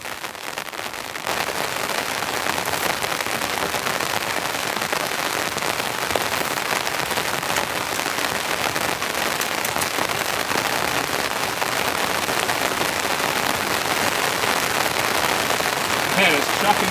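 Heavy rain pours onto a tent at a campsite, a dense, steady roar of drumming drops that stays loud and unbroken throughout, with occasional brief voices over it.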